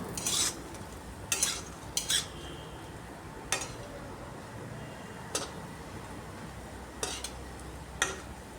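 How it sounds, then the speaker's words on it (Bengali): Lentil fritters being turned over and stirred in hot frying oil, a steady low sizzle broken by several sharp scrapes and clinks of a spatula against the pan, no voices. "এক সাইড ভাজে অপর সাইডটাও সবগুলাকে উল্টে পাল্টে এভাবে তেলের মধ্যে আরেকবার নাড়িয়ে নিচ্ছি"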